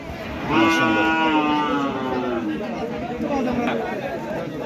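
Livestock at Taherpur goat market on a rainy day, with loud bleating calls and livestock cries over steady crowd chatter and bargaining voices throughout.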